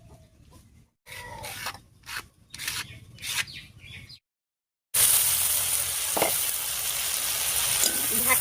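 Mixed vegetables fry in a pan with close scraping stirs in short bursts, then a break, followed by a steady, loud, continuous sizzle.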